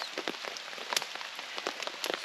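Rain patters steadily on surfaces at a lakeside campsite on the shore of Lake Huron in autumn, with many close, irregular drops and taps over a continuous wet hiss.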